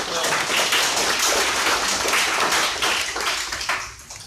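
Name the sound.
audience applause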